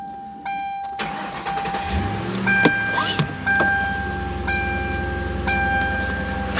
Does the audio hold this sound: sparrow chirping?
no